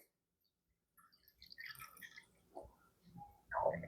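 Three-quarters of a cup of water is poured into a pan for spaghetti bolognese, a short quiet splash and trickle arriving in a few bursts after a moment of silence, ending with a louder gush, no talk.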